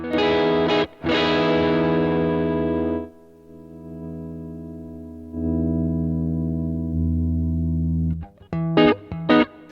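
Bright, clean electric guitar chords through a BOSS GT-1000 amp model ring out and sustain, fading slowly, followed by a few quick strummed notes at the end.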